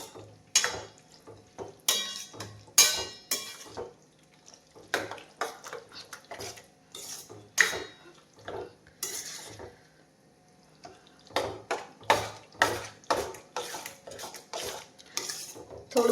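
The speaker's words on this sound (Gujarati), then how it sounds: "થોડું હલાવી દઈશું તેથી મસાલો અને વટાણા બધું મિક્સ થઈ જાય।" A spoon clatters against a pot while boiled dried peas are stirred together with spices, sharp metallic scrapes and knocks in uneven bursts with short pauses, close by and without talk.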